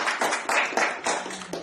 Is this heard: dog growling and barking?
no